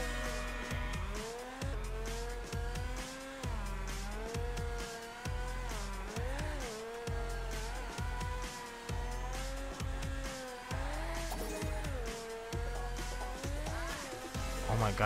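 Tire squeal from a drifting toy-sized car in Table Top Racing World Tour, screeching repeatedly over a steady, looping engine whine and game music, with a voice briefly talking.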